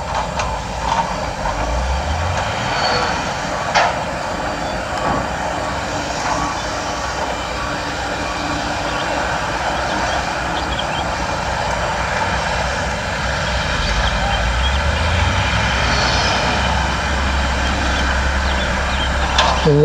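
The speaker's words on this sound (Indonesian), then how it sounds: "ada beberapa mobil truk dan mobil grader, mobil pemadat tanah," Construction trucks, a grader, a soil compactor, a bulldozer and an excavator at work on the Betung–Jambi toll road in Sumatra, a steady rumbling engine drone with heavy vehicles passing, mid-distance and continuous.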